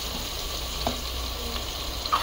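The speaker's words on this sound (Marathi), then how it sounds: "आपल्याला हा कांदा भाजून घ्यायचा आहे" Onion frying in a pan with chillies gives a soft, continuous sizzle close by, steady and quiet with a few faint clinks and no talking.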